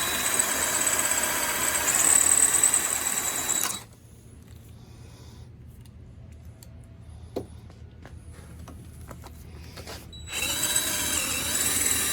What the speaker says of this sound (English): we are drilling into a steel bolt and aluminum housing